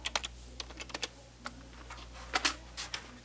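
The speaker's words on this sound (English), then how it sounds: "What you want to do is type in export home in all capitals, root, and hit enter." A command is typed on a keyboard to run Arch Linux on Android. Soft, close keystrokes come in irregular clusters, with a couple of firmer key presses, over a quiet low hum and no talking.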